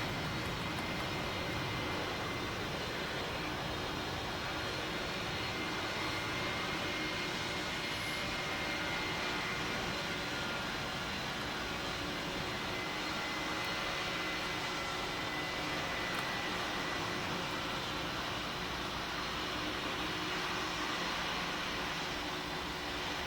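A presidential airplane takes off, heard as a steady, faint, distant broadband jet roar that holds without breaks and with no voices.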